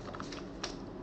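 Brief burst of keystrokes on a computer keyboard while entering a command, a few light quiet clicks in quick succession.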